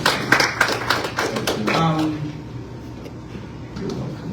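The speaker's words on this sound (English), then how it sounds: "Let's give him a round of applause." Short burst of audience clapping at a panel event introducing the program coordinator, about two seconds of close, scattered claps that fade into quiet room tone as a voice begins.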